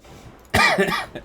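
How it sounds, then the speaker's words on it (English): A single harsh cough bursts out close by after a quiet moment, followed by a brief rough tail. "I've got my coughs back."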